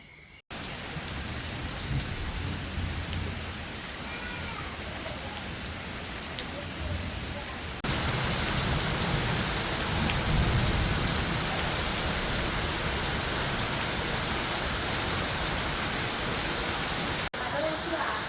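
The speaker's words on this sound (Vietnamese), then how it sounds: "Trời đang mưa to lắm ạ" Heavy rain pours steadily, a dense hiss that grows louder partway through, with a low rumble of thunder underneath.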